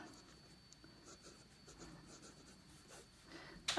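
A fine stub steel fountain pen nib scratches softly across paper in short strokes, quiet and close, with a brief sharper tap at the very end.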